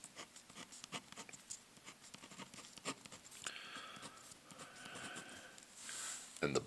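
Marker or pen strokes scratching out a math equation on a board or paper, a steady run of short rubbing and tapping strokes, close and fairly loud, ending in a sharper burst.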